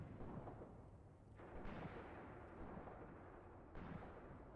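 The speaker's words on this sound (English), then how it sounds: "Yeah, there goes the artillery." Artillery fire in the World War II strategy game Mius Front: heavy, rumbling booms with sudden onsets, rolling continuously like distant bombardment, loud and without talk.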